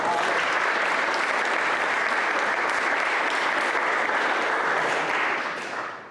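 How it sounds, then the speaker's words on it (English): An audience at the EMS 2025 conference gives a sustained round of applause, thick continuous clapping from many hands at close range, fading out toward the end. "So another applause."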